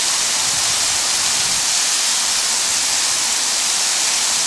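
Water pours loudly and continuously in a home landslide science project simulating heavy rain, a dense steady hiss like a downpour, close and unbroken, with no talk.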